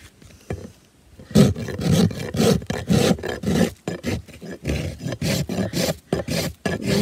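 Steel rasp worked across a horse's hoof wall, cutting a 20-degree bevel at the heel down to sole level: rapid rhythmic rasping strokes, close and loud, starting after a brief quiet pause and continuing steadily.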